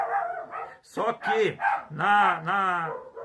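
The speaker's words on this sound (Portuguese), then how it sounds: "tem um cachorro latindo aqui." A dog barks and yips several times in quick bursts nearby while a man keeps preaching over it.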